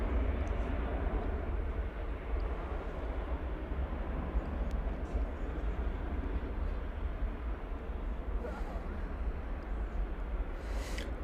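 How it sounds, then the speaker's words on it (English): A Boeing 737-800 airliner departs DFW Airport, its engines producing a broad, steady roar from a distance that holds evenly throughout. "American 1392 to Austin, Texas is a 737-800. Headed out for the short flight to the state capital."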